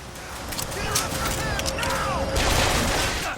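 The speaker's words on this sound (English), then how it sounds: "I'm beginning to think that I can't put down this volley gun." A volley gun fires in the BioShock Infinite video game: loud, booming game gunfire with bursts over a busy, noisy combat soundscape.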